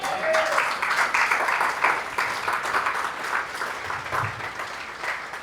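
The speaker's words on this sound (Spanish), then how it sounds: "¿Alguien aplaude eso en esta mañana?" Congregation applause during a church sermon, a sustained crowd of hands clapping with a dense, fluttering texture that swells and eases slightly, a brief voice near the start.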